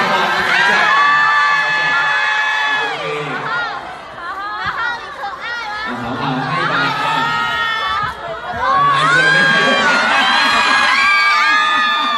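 A loud crowd at a fan meeting and birthday celebration cheers, claps and shouts continuously, with high, excited voices that sound like children whooping and yelling over each other.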